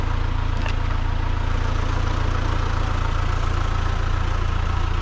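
A diesel engine idles steadily and close by, likely a truck used to haul firewood in IBC totes, with a continuous low rumble and even throb that holds unchanged throughout, with no talking.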